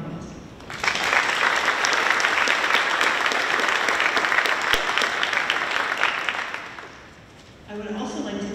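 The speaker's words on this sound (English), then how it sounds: "So I'd like to thank them with a round of applause." Audience applause at a high school National Honor Society induction ceremony, a dense, steady wash of many hands clapping for about six seconds before tapering off, with a voice returning at the end.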